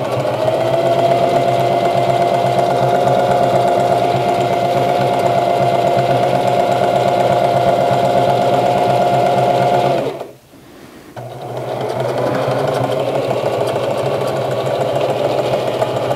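A regular home sewing machine stitches free-motion quilting loops along a quilt border, a loud, close, steady mechanical whir that stops briefly near the end and then resumes.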